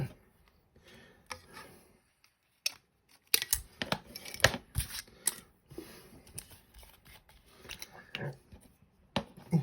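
Crisp snipping and rustling of scissors cutting material, in irregular bursts with faint background noise and brief pauses between cuts.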